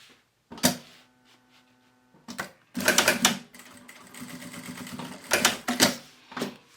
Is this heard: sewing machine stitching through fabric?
yes